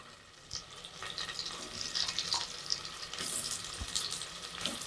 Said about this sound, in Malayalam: ബട്ടർ ഒന്ന് മെൽറ്റായി വരുമ്പോൾ തന്നെ നമ്മൾ മാഗ്നേറ്റ് ചെയ്ത് വെച്ചിരിക്കുന്ന ചിക്കൻ പീസ് ഇതിലോട്ട് വെച്ചു കൊടുക്കാം